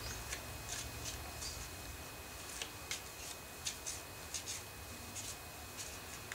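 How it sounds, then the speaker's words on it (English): Quick soft riffling and light card snaps in a quiet room, a series of short rustling bursts over a low background hum. "that was a quick shuffle"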